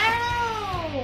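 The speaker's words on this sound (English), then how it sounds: "What's not to understand about a growl and a yowl?" A cat's yowl, a single drawn-out wavering cry that slides downward in pitch, close and loud, with a low growl beneath it.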